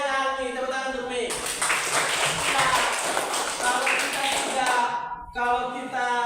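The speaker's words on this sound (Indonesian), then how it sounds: "Tepuk tangan untuk Mi." A school class claps hands together in a quick burst of dense applause lasting a few seconds, framed by a teacher talking before and after.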